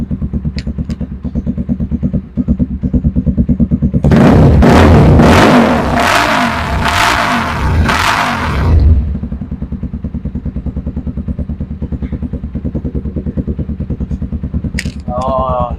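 A Kawasaki Z200 fitted with an Akrapovic exhaust canister and no silencer idles with a loud, rapid, close-up putter, then revs hard to high RPM in several sharp roaring bursts before dropping back to a throbbing idle.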